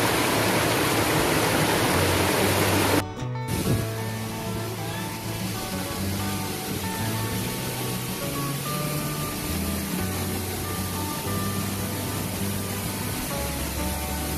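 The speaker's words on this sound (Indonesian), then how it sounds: "Ini dia aliran dari air terjunnya" The Cismun waterfall in Cibodas Botanical Garden roars steadily and loudly, a constant rushing wash of water that briefly cuts out near the start before resuming.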